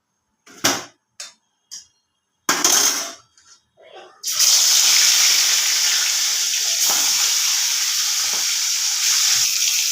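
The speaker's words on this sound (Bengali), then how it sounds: "আর মাছটা আমি এখন ভেজে নেব।" Turmeric-coated rohu fish pieces go into hot oil in a wok. A few sharp clatters and short bursts come first, then a loud, steady sizzle runs close and continuous to the end.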